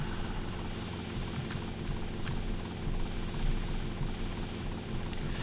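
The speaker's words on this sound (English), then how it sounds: "Okay, so I can drive a helicopter." Helicopter in the video game GTA Vice City, a steady droning rotor and engine hum that holds at a constant moderate level throughout, with no talking.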